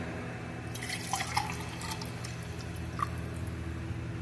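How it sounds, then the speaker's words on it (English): Chicken broth is poured into a pot holding noodles and bouillon in a home kitchen, giving soft, faint liquid trickles and a few light drips against a low background hum. "I'm going to pour some of the chicken broth in here."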